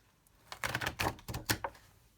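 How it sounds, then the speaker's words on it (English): Several quick tearing rips of paper as a page is pulled out of a watercolor swatch book, a short cluster of close, crisp bursts with brief pauses. "So I'm going to go ahead and tear this page out"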